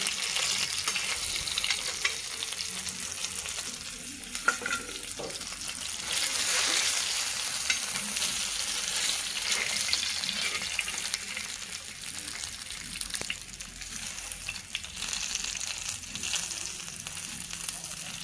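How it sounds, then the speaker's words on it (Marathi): Fish sizzles as it fries in a pan, a steady dense crackle of hot oil that holds for the whole span with slight swells and a few louder pops. "बाकीची पण मच्छी मी अशा प्रकारे तळून घेते सगळी."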